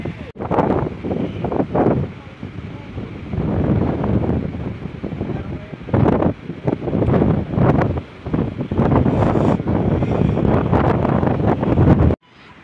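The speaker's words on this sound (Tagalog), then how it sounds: "Lakas ng hangin ngayon dito, ang lamig ng hangin." Strong, cold wind buffets the microphone in loud, gusting bursts at a historical park in Pangasinan, with a person talking faintly underneath.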